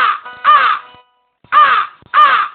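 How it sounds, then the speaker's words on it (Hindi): Loud, close crow caws from a fox-and-crow fable, three harsh calls in a row with short gaps between them and no speech around. "उसने अपनी चोंच खोली और लगा काव काव करने।"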